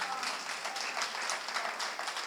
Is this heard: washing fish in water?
no